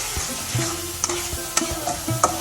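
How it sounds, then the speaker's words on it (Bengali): Thick spice paste frying for a goat head curry, stirred with a spatula: a low steady sizzle broken by a run of sharp scraping strokes against the pan, close and fairly quiet, with no voices. "তো আমি একটু সময় নিয়ে মশলাটা ভালোভাবে কষিয়ে নেব।"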